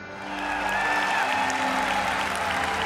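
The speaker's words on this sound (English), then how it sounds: "That was the loudest applause." Loud, sustained applause from a large conference audience greeting the announcement of Kotlin support for Android development, a dense wash of clapping that swells and holds steady throughout with faint crowd noise beneath.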